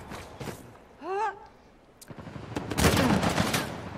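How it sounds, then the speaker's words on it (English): Bursts of gunfire from the video game Uncharted 4 multiplayer crackle and rattle, with a rising electronic whine partway through and a dense volley of rapid shots near the end. "the sound of gunfire!"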